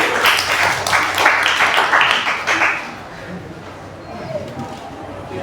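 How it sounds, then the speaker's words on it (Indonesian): A short burst of clapping from a classroom group of students, lively for a few seconds, then fading into murmuring voices and room chatter. "kita beri tepuk tangan untuk kelompok satu"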